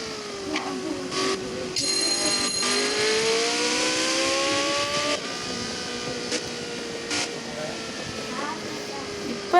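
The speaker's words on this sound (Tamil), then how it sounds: "செம்ம ஸ்பீடு வண்டி. சொன்ன வரையில் வண்டி ஓடுது." A fast vehicle in a video game roars along at high revs, its whining engine tone rising and shifting pitch steadily throughout, with a few brief clicks and bursts over the top.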